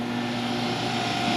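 A steady electric pump hums with a constant tonal drone while pushing fluid into the ZF8 eight-speed automatic transmission of a BMW 540i 3.0 turbo, fitted with a new pan replacing the plastic one. The hum is even, close and unbroken, with no speech.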